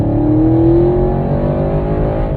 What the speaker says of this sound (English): I hope you can hear those crackles and pops in the exhaust.